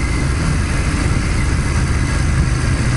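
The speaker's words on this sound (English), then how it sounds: "I can hear the exhaust a lot better than I usually can." A vehicle's exhaust and engine at night hum in a steady, close, low rumbling drone that holds an even level throughout with no pauses and no voices.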